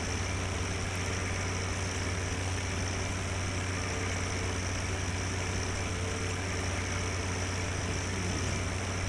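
On a farm, a tractor sits idling, its engine giving off a constant low drone with a faint mechanical whine above it, unchanging and nearby, with no voices.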